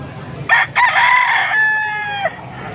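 Bull stag gamecock roosters in the Philippines, one loud close crow with a choppy start and long drawn-out tail, then softer clucks and low background noise.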